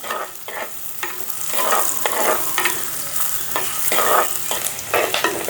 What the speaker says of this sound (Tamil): இப்போ வந்து எண்ணெய் கொதிச்சுட்டு நாங்கள் வெங்காயத்தை போடுவோம்